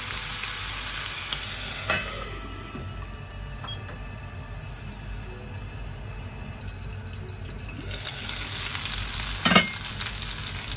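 Food sizzles steadily in a frying pan for a Japanese bento, browned on one side and flipped, with a few louder spatula clacks and scrapes over the continuous hiss.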